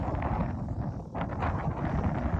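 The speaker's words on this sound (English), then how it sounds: "It's really breezy out here, which helps keep me cool" Breezy wind gusting across an open Konza Prairie trail in Kansas on a warm day, a continuous rushing buffet on the microphone with a brief lull midway, loud and close.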